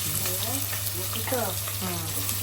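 Onion frying in oil in a home kitchen, a steady close sizzle running the whole time while voices talk over it.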